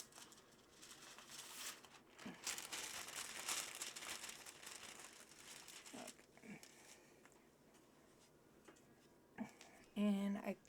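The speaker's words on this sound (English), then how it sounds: "let me go ahead and grab my paper here" A sheet of art paper is grabbed and handled, giving soft, intermittent crinkling and rustling close by, with a short voice heard near the end.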